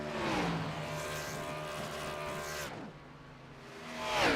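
Race car engine from the NASCAR iRacing video game at Darlington, roaring continuously through a burnout with steady high-pitched whine, a brief drop in pitch, then revving back up loud at the end; no talking.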